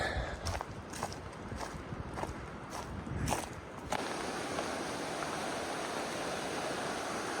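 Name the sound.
McCloud glacier river flowing in the background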